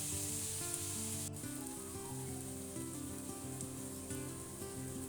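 Chopped tomatoes sizzling and frying in a pan while being stirred, a soft continuous crackle with faint scraping, close and quiet, no voices.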